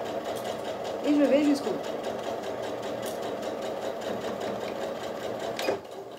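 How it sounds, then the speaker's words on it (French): Sewing machine stitching a zipper onto a small zip pouch, a rapid mechanical whirring run of stitches that continues steadily, with someone speaking French over it. "L'essentiel est de coudre la fermeture dans cette position."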